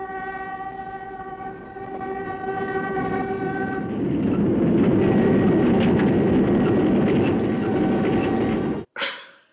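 A train rolls past at close range, its horn sounding in sustained chords before the rumble and clatter of the cars swell loudly and then cut off abruptly.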